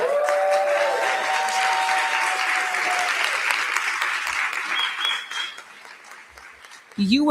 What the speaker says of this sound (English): But we are not done clapping yet.